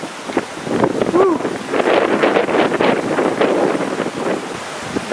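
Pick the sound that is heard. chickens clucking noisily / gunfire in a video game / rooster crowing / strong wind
strong wind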